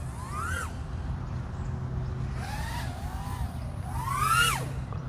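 A Rekon4 FR FPV freestyle quadcopter's motors and props whine in rising and falling sweeps as the throttle changes, surging in pitch three times over steady wind noise, loudest near the end.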